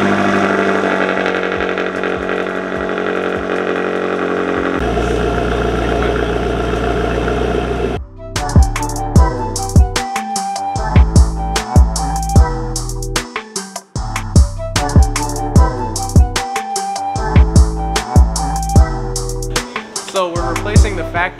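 BMW M8 fitted with an Akrapovic exhaust, loud and close, holding a steady engine drone at first, then a sharp start into a choppy, pulsing idle with repeated throaty bursts and blips.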